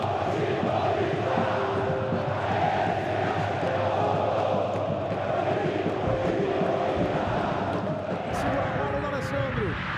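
A large football stadium crowd roars and cheers in a continuous wash of noise at a Corinthians match in the 2011 Brazilian championship, with a commentator talking over it.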